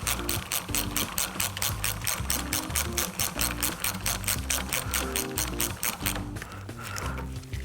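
A torque wrench ratchets on the reservoir side of an XFUSION Vector HLR bike suspension assembly: a rapid, steady run of close, loud clicks lasting several seconds, with no voices.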